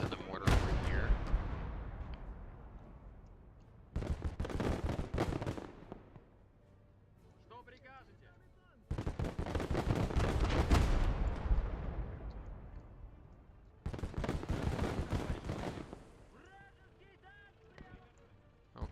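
Mortar and artillery fire booms in the World War II game Gates of Hell: Ostfront, several heavy blasts with long rumbling tails separated by quieter gaps.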